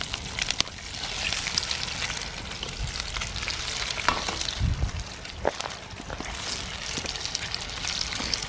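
Bacon and eggs fry in a pan at a campground, a steady close crackling sizzle running throughout with scattered pops and a few utensil clicks.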